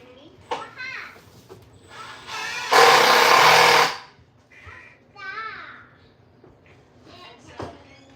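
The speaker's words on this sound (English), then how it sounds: "Yeah, it's a drill. So it'll make loud noises" A loud burst of power drill whirring lasts about a second, surrounded by a child's chatter and household clatter.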